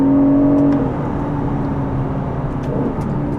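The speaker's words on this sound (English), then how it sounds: "As you reach the higher part of the revs, the engine really begins to scream." An Aston Martin DB11 V8 engine revs high, a strong whining tone that climbs at first, then settles into a steadier engine drone at moderate loudness.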